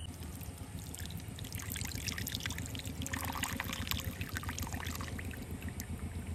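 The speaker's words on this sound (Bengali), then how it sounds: "এবারে একটা পাত্রের মধ্যে ছাঁকুনি দিয়ে ছেঁকে নেব।" Boiled herbal hair tonic poured through a strainer into a pot, a faint, continuous trickle and splash of liquid running steadily over a low background hum.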